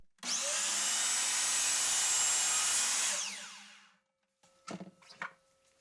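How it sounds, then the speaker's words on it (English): A miter saw cuts a piece of scrap wood, with a loud close whine of the blade through the wood for about three seconds that winds down, followed by a few knocks and clatters as the piece is handled. "I took it over to the miter saw and cut a piece at 5 inches long"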